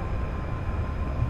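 A train rumbles past in GTA Online, a dense, steady low roar held at even loudness for the whole moment, close and alone without talk.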